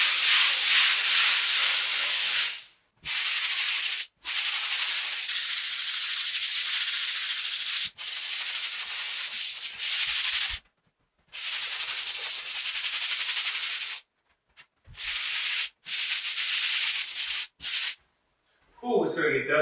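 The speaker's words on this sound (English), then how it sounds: "Sanding is just sanding." A sander works over drywall butt joints in a farmhouse remodel, producing a loud, close, continuous abrasive hiss. It runs in long strokes broken by several brief pauses, with no talking.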